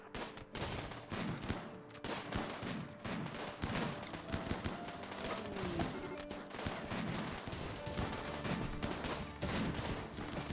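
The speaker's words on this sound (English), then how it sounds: "They're shooting the ancient danger." Gunfire in the video game RimWorld, with allies shooting at an ancient danger: rapid, overlapping shots crackling throughout in a steady busy stream, moderately quiet in the mix.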